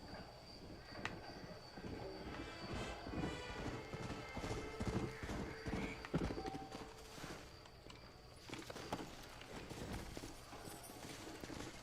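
Steady clip-clop of horse hooves trotting along with a busy background, a short whinny breaking through midway, in the video game Red Dead Redemption.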